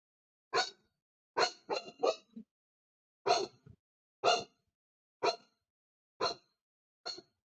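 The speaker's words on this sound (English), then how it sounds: "Oh, I hear Lucas barking again." A dog named Lucas barks in nine separate sharp, loud bursts, some coming in quick pairs, with short silences between them and no talk over them.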